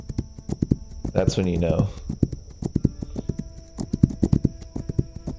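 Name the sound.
horse hooves clip-clopping in the video game This Land is My Land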